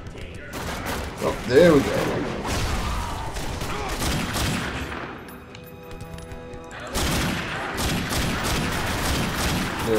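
Dense gunfire from the video game The Darkness II, rapid loud shots and crashing impacts filling most of the stretch, easing briefly mid-way before resuming, with someone speaking over the action.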